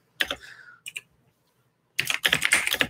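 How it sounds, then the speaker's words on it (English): Someone types on a computer keyboard nearby, with a short burst of clicks, a pause, then a quicker, denser run of keystrokes. "Love that typing."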